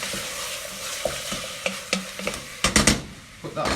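Chicken livers sizzle steadily in a frying pan while a utensil stirs them, giving a series of close scrapes and clacks over the continuous hiss, with a cluster of louder knocks near the end and no talking.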